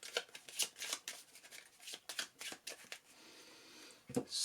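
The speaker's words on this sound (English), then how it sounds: "Give this a shuffle" Marvel Champions card deck being shuffled by hand, a run of quick crisp riffling bursts close up, with a brief sharper snap near the end.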